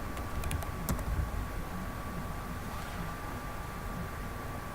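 Keys tapped on a computer keyboard while entering a web address, a few quick clicks early on, then faint soft tapping under a steady room hum.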